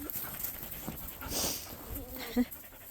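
A black water dog pants close by in quick, breathy bursts, with a short whimpering note near the end.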